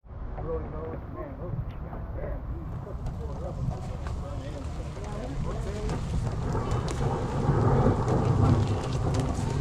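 Pouring rain hisses steadily at Ray Roberts Lake State Park in Texas, with low thunder rumbling underneath during camping. The downpour grows slightly louder toward the end, and faint voices murmur in the background.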